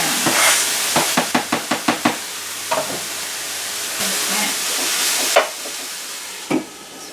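Onion, garlic and mushrooms sizzle in a pan, with a steady frying hiss broken by a quick run of sharp stirring knocks early on and a few louder clanks later.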